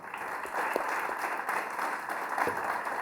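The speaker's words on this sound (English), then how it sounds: "Can we have a big round of applause for Josh, please?" Audience applause for Josh at the close of a gaming conference keynote: a thick, continuous roar of clapping from a large crowd, loud and even throughout.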